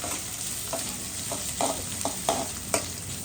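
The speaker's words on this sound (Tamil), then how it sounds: "இப்போ நம்ம பச்சை மிளகா தம்பியும் பதங்க ஆரம்பிச்சுட்டாரு" Green chilies and onions fry in a pan for a Sri Lankan tin fish curry, giving a steady sizzle with several brief stirring scrapes spaced through the clip, close and moderately loud with no talking.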